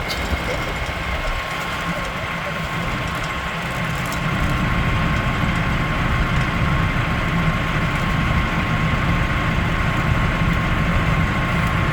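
Tractor engine running steadily while pulling out cable from a Mile Marker H12000 hydraulic winch, a loud continuous low drone that grows a little stronger partway through.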